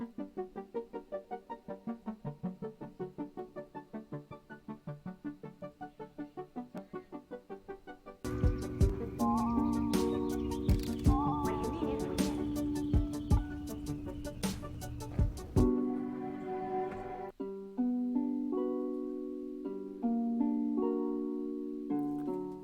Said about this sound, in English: I decided to go with a thin to thick mod wheel because it sounds like this.